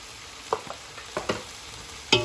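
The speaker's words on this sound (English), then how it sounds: "I'm just going to put the heat up and dry all this liquid." Keema and potato samosa filling with garam masala cooks over high heat to dry off its liquid; a soft sizzle runs under a few sharp spoon scrapes and stirring knocks spaced through the short span.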